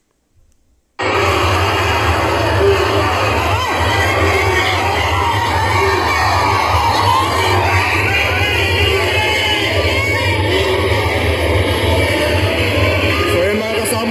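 A large crowd in Cotabato City shouts and cheers Duterte's name at a rally, a loud, dense roar of many voices that starts abruptly after a second of silence and holds steady throughout.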